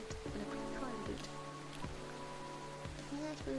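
Steady rain falls outside in the video game Coffee Talk, a soft constant patter lying under sustained music tones with a few faint, brief knocks.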